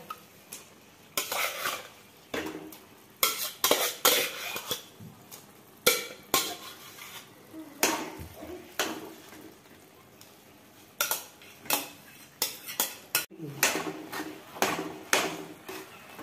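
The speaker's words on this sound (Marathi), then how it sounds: "आता हे मिक्स करून घेऊया चांगलं." A spoon stirs and scrapes mashed vegetables into pav bhaji masala in a pan, making repeated close metallic clanks and scrapes in irregular bursts with a soft sizzle underneath.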